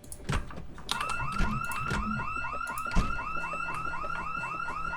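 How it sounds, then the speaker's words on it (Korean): In a zombie video game, an electronic alarm goes off and keeps ringing in a fast, repeating warbling pattern. It is loud and steady, with a few sharp thuds near the start and a clack partway through. "여기도 잘못 건드리면 경보가 매우 시게 울리더라고요"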